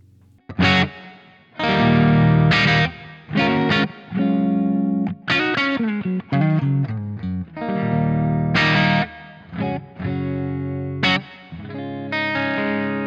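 Distorted electric guitar playing chords and riffs with a wide reverb tail, loud and continuous with short pauses between phrases.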